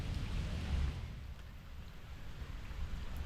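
Rain falls steadily in Central Park, New York, a soft, even hiss with low rumbling underneath, faint and continuous without any voices.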